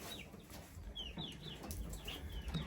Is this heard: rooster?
yes